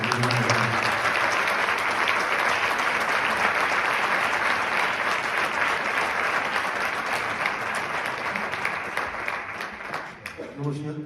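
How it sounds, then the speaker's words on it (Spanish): Loud applause for a singer and musicians at a traditional music memorial concert, a thick continuous wash of clapping with some voices mixed in, easing slightly near the end. "para eles outra vez pidovos un fortísimo aplauso"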